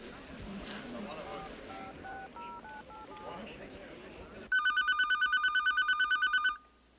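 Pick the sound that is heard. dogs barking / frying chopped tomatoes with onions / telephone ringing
telephone ringing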